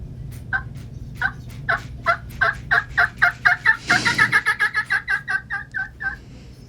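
A turkey call imitates a fly-down cackle, running a fast series of sharp, evenly spaced clucks that speed up and then taper off, loud and close with no talking.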